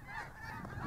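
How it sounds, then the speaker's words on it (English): Snow geese wintering in Ridgecrest, a brief burst of overlapping honks heard from a distance, faint and without speech. "These are snow geese that come here and visit us in the wintertime here in Ridgecrest, coming down from Canada."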